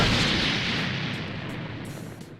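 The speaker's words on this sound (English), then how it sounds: "And of course, there's a super Ki explosion," A super Ki explosion in Dragon Ball Xenoverse 2 bursts as one big roaring blast with a wide noisy rush that slowly fades, loud and close, with no one talking.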